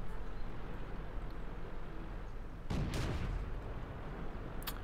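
Tank cannon fire in World of Tanks during a T2 Medium Tank match: a heavy broadband blast near the middle with a rumbling tail, another sharp report at the very end, over a constant low battle drone.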